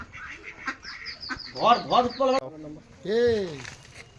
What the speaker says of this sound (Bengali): এই হাঁসগুলো বেশ ভালোই মনে হচ্ছে।